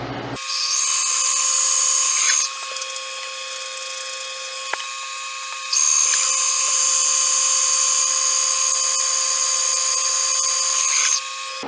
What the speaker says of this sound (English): What you're going to be seeing me doing is operating the CNC mill as a manual mill.